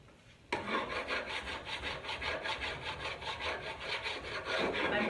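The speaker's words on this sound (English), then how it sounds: "I used only the palette knife to distress with the water, the wet distressing." Continuous rhythmic scraping of a palette knife rubbing over painted wooden furniture during wet distressing with water, a steady loud back-and-forth rasp with no talking.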